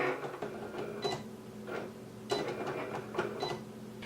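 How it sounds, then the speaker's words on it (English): A Cricut machine cutting a vinyl design for a mug, making close, intermittent whirring and clicking bursts as the carriage moves back and forth, with short pauses between passes. "now it's going to cut my design"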